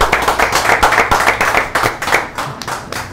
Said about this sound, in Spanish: Yo le pido un aplauso a todos mis chicos, a todo mi personal, mi chef, a todos